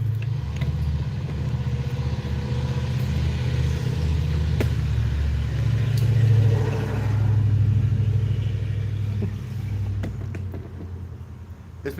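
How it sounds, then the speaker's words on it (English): A loud truck rumbles past outside a home workshop on a busy weekend street, its engine drone swelling as it nears and fading away over about twelve seconds, with no talking. "there's more people driving by, and it's just everybody's got a loud truck"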